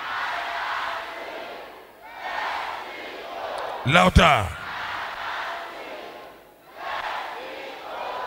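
Church congregation at an evening service shouting together in loud waves, separated by short pauses, with one voice rising sharply in the middle.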